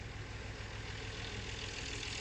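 A tractor engine idling with a steady low rumble and constant mechanical drone, close and unbroken throughout, with no voices.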